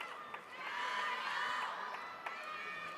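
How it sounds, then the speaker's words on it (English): Steady crowd cheering and shouting fills an arena during a World Table Tennis men's singles round-of-16 match in Chongqing, holding loud and continuous with a few sharp claps or ball hits poking through. "Crowd doing all they can to will the 19-year-old into even more of a fight back."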